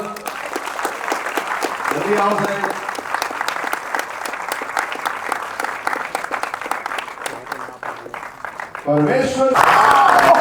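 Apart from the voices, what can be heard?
premiere audience applauding actors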